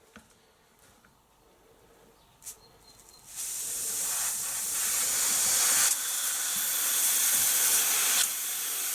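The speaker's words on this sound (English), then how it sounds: "All you're going to do is just gently crack that off until you hear it to start to bleed." Air hissing steadily from the brass bleed screw of an FX Wildcat air rifle as it is gently cracked open, a few faint clicks before a loud broadband hiss starts and continues to the end.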